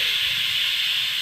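A pressure cooker holding beef vents steam in a loud, steady, airy hiss that stays constant from start to finish, with no talking.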